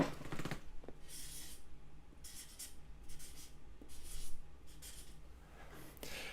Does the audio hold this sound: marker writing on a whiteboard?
yes